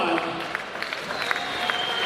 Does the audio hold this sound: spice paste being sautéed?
no